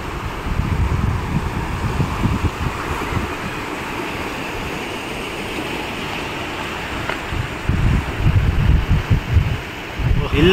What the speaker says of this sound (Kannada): ಬಂಡೆಗಲ್ಲುಗಳಿಗೆ ನೀರು ಅಪ್ಪಳಿಸೋ ಸೌಂಡ್ ಇದೆಯಲ್ಲ